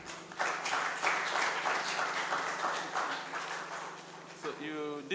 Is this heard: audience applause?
yes